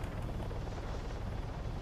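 A helicopter in the video game ARMA III sounds as a steady, dense low rotor and engine drone that fills the moment without letup, with no talk over it.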